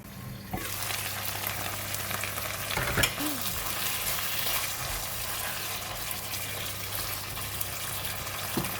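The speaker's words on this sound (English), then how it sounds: "I'm going to cover the lid and let it cook until the eggplant is softened." Eggplant and prawns in Thai red curry paste with a splash of water sizzle and bubble steadily in a covered pan, a continuous close frying hiss with a few faint clinks.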